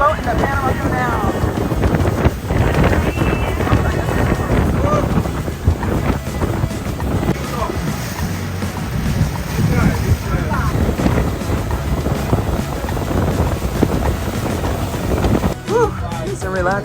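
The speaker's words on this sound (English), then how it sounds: "We're on a boat in the Panama Canal." Steady low rumble of a boat moving through the Panama Canal, with wind buffeting the microphone throughout and voices talking faintly underneath.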